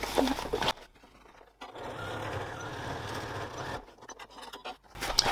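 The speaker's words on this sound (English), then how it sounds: "I'll stitch across that a couple of times just to make sure it's secure." Sewing machine stitching back and forth across a fabric seam, a steady mechanical whir in two long runs separated by a brief pause, with louder handling sounds at the start and end.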